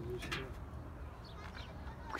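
Soft cooing from tumbler pigeons kept as play birds, a few faint low coos and light chirps over a quiet outdoor background, with a voice murmuring in the distance.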